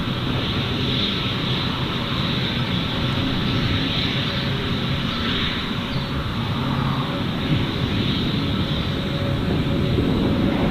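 Jet airliner engines rumble steadily at Gold Coast Airport, a broad, continuous roar heard from a moderate distance and holding at a constant loudness throughout with no talk.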